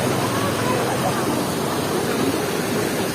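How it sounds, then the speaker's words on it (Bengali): Waterfall at Basistha temple in Assam, a steady, broad rushing roar of falling water that holds evenly throughout, fairly loud and close. "ঝর্ণাটা সুন্দর।"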